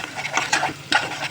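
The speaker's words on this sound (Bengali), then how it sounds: "খিচুড়ির জন্য মাংসটা কষিয়ে নিচ্ছি।" Beef being stir-fried in a pot for beef khichuri, with brisk, close scraping and stirring strokes over a soft sizzle.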